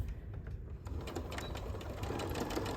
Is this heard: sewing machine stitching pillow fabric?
yes